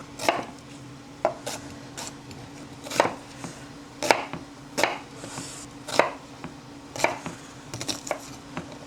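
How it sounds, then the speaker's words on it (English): Knife cubing halved onions on a cutting board, with sharp chopping strikes landing in an irregular rhythm about once a second, close and fairly loud, with no talking. "Each one, I'm gonna cut in half and just cube."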